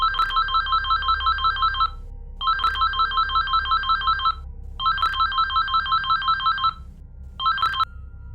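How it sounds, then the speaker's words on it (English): A telephone rings in four repeated electronic trilling bursts with short pauses between, loud and close, no voices. "The phone rang."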